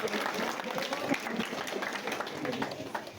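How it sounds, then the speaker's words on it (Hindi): Village schoolchildren clap for themselves at a prize event, a dense, steady patter of many hands filling the room while voices murmur underneath throughout. "अपने लिए पहले सब तालियां बजाएं"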